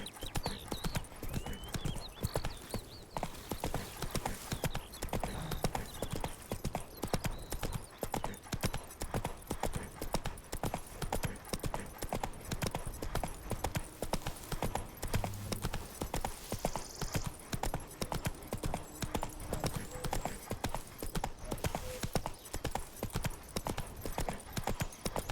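Roach, Geralt's horse in The Witcher 3, trots with a steady clip-clop of hooves running the whole stretch, close and fairly loud over game ambience, with an occasional whinny and a brief voice.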